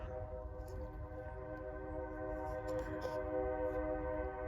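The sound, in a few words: train passing in the background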